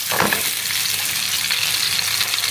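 Dumplings fry in a pan, giving a close, continuous crackling sizzle with dense hiss throughout and no talk.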